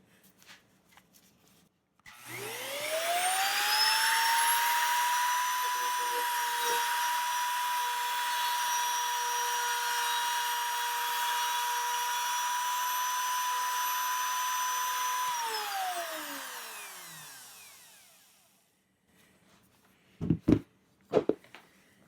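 A router fitted with a dado clean-out bit flattens Forstner bit holes in wood. Its motor whines up, holds a steady high pitch for about thirteen seconds, then spins down. A few sharp clunks follow, with no talk.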